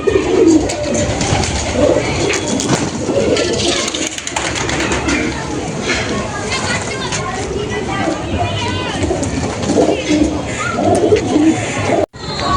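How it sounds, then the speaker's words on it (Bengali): Madras pigeons cooing steadily at close range, with a dense flock of low, rolling coos layered over one another throughout; people talk nearby in the background. "এই আমাদের পায়রা"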